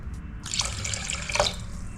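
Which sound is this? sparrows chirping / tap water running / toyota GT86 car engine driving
tap water running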